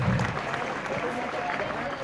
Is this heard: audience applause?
yes